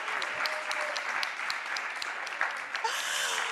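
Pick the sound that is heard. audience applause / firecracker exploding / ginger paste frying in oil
audience applause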